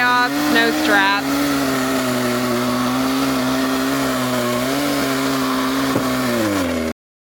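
A chainsaw idling and revving while felling a tree on a family farm, a steady droning engine hum with a brief higher rev near the start and a dip later, continuous until it cuts off abruptly.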